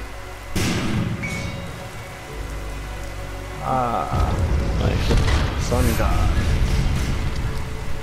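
Rain falls steadily in Lara Croft and the Temple of Osiris, a continuous broadband wash over a low rumble, with people talking over it and a swell in intensity near the middle.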